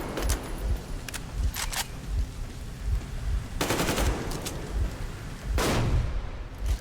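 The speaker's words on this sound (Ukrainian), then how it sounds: "Та хватить нас стріляти!" Rapid bursts of automatic gunfire in the video game Metro Exodus rattle loudly and repeatedly, with brief sharp shots between the volleys and a constant rumbling background.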